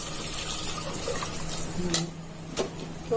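Water poured over rice in a pot to soak for crab broth biryani, a soft steady splash and gush with a brief louder burst near the end, close by in a quiet kitchen.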